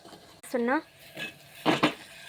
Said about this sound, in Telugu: ఇప్పుడు మిల్ మేకర్ వేయాలి